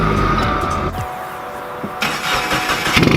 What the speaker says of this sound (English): You want to make sure you start the car.